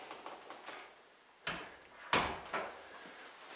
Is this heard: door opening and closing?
yes